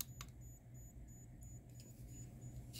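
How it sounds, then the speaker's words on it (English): A controller for electroluminescence wire gives faint, high, short beeps repeating steadily at a quick pace under a low background hum. "you're going to hear a beep from this"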